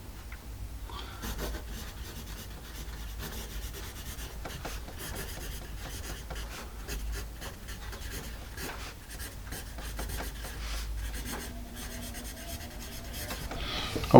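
Graphite from a Sargent Art pencil scratches steadily across paper at close range, a soft continuous rasp with brief pauses, quiet and alone without voices.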